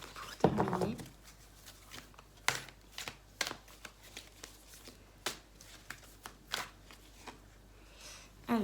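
A tarot card drawn and slid from a deck during a reading, giving soft papery flicks and light taps spread through the clip, with a sharper rustle near the start, quiet and close with no talk.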